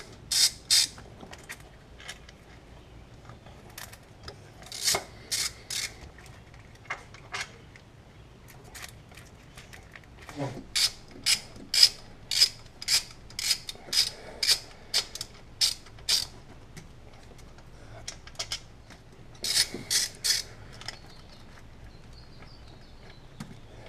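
A ratchet wrench loosening bolts on the intake plenum of a 2000–2004 Nissan Xterra, heard as quick bursts of sharp clicking pawl strokes in several separate runs, close and clear, with no talking.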